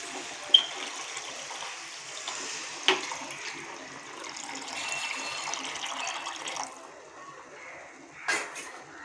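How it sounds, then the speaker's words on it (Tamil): Tamarind water poured into a pan of curry for a taro-root (arbi) kara kuzhambu, a soft steady liquid rush lasting several seconds, with a few sharp clinks and a brief splash near the end, no talking. "இப்போ நான் புளியை கரைச்சி வச்சுருக்கேங்க. அந்த தண்ணியை நம்ம இதில் சேர்த்துடலாம்."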